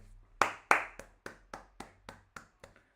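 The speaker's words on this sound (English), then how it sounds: "stadium clapping for the memoir of Astori's death." A football stadium crowd claps in tribute to the late former Fiorentina captain Astori during a Fiorentina vs Roma Serie A match, heard as about nine distinct, evenly spaced claps that fade in strength.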